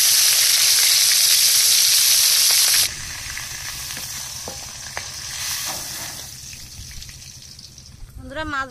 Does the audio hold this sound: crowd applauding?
no